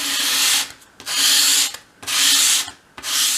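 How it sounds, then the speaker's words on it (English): Dry, rasping strokes of sandpaper against a small wooden piece held at an angle to bevel its edges, four long sweeps with brief pauses between, close and steady with no talking. "with your sandpaper flat on your work surface, hold the piece at a 45-degree angle and sweep it towards you"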